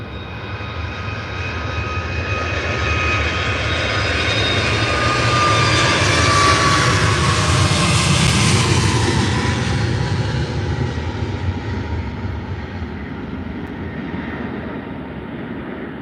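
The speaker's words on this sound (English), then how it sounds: "Ryanair 737 MAX 8 now taking off on the runway" A Ryanair Boeing 737 MAX 8 jet takes off from the runway at Faro airport, a steady, loud engine roar that swells toward the middle and slowly eases as the aircraft climbs away.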